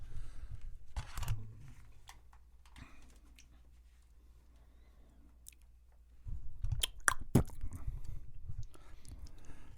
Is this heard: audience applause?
no